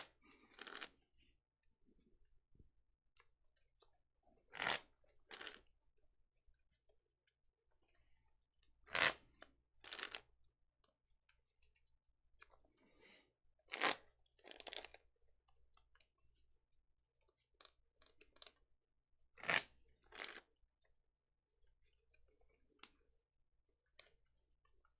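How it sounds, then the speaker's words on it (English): A deck of Pokémon trading cards being shuffled by hand, heard as several short, crisp riffling bursts spaced a few seconds apart, with soft card clicks and handling noises in between, fairly quiet and close. "we will make sure we get this deck nice and shuffled"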